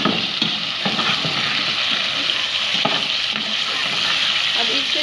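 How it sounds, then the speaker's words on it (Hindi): Small boneless chicken cubes fry in a pan while being stirred, a loud continuous sizzle with scattered scraping and clinking of the spoon throughout. "अब ये इसमें चिकन डालेंगे।"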